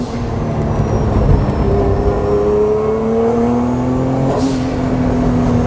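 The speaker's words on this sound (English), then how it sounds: "The blow-up valve sounds so freaking sick, and the fact that it's right behind your head." Fully built turbocharged Honda NSX engine revs up and down close by, its pitch rising and falling steadily, with a blow-off valve hiss near the end and no voices.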